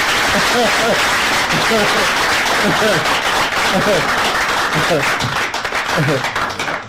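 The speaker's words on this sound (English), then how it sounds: "Another round of applause." An audience at a quiz competition applauds loudly and continuously, with cheering voices and whoops mixed in, tapering slightly at the end.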